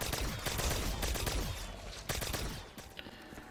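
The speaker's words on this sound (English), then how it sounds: "Yeah, that's the ray gun, boys." Ray gun from Black Ops 3 Zombies firing in rapid, close bursts of energetic shots, with dense continuous blasts for about two seconds before thinning into a few scattered shots.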